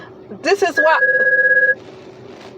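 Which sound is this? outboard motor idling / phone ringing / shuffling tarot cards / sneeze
phone ringing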